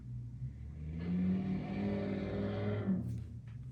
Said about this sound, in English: someone's driving like a crazy person